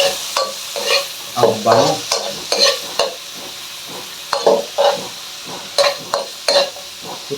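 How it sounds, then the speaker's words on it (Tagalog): Garlic, onion and ginger are sautéed for monggo, giving a steady soft sizzle broken by repeated rhythmic bursts of stirring and scraping in the pan, with a brief spoken remark. "Lagyan natin itong bawang, buyas, at luya."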